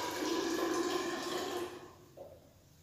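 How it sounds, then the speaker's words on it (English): Water poured into a measuring cylinder of soil during a school biology test, a faint, close trickling fill that rises slightly in pitch for under two seconds, then drops away to a brief small splash. "Water can be added approximately as well"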